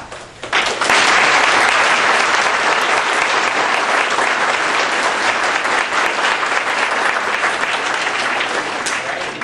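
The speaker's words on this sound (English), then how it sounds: "if you could please clap" Audience at a college forensics debate night applauding loudly to vote for a team, a sustained dense wash of clapping from a large crowd that starts abruptly and continues steadily without speech.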